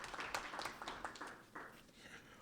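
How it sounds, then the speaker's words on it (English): Scattered clapping at a Seattle school board meeting, faint and brief, with the claps thinning out near the end, mixed with low voices. "That deserves a round of applause for sure."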